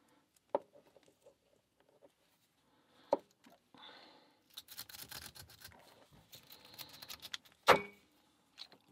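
A snake rake pick works the spool pins of a Stabilit A40 padlock, making sparse metallic clicks at first, then a stretch of fast scratchy raking and rattling, ending in a sharper clack.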